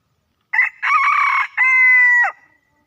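An 11-month-old Thai fighting rooster crows once loudly and close up, a clear multi-part call lasting about two seconds against a quiet background.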